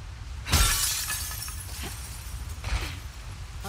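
Glass shatters in The Last of Us Part II, one loud crash followed by tinkling debris, then a second smaller breaking burst about two seconds later.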